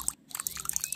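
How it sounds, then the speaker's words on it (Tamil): Water poured into a turmeric powder mixture, prepared as a natural lice remedy for chickens: a brief, close splashing pour with trickling bursts lasting about a second. "3/4 தண்ணி சேர்த்துக்கோங்க"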